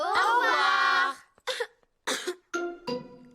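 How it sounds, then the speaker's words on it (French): A cartoon character's contagious cough: a drawn-out vocal sound followed by several short, sharp coughs in a ragged sequence, close and clear. "La toux de Pedro est contagieuse."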